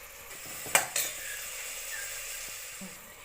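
Tomatoes softening in a pan as khichdi is cooked, a steady low sizzle with two sharp metal scrapes of a spoon stirring early on, then quieter bubbling and faint clinks.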